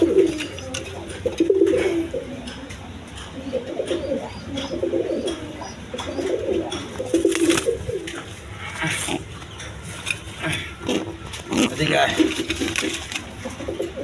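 A breeding pair of Sirazi pigeons, male and female, coo in repeated low throaty bursts close by while someone talks over them.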